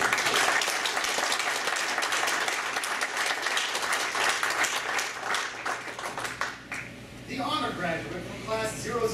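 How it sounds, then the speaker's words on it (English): An audience at a US Army air defender graduation ceremony bursts into sustained, dense applause that fades toward the end as a voice begins speaking over it. "please join me in a round of applause for the newest air defenders in the United States Army"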